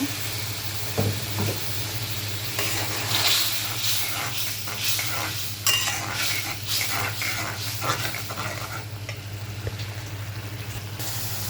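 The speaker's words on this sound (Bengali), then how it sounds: "আর একটু পানি দিয়ে মশলাটাকে বেশ ভালোভাবে কষিয়ে নেব" Spice paste sizzling and being stirred in a pan with a little added water while cooking duck meat bhuna, a steady frying hiss with scraping stir strokes throughout.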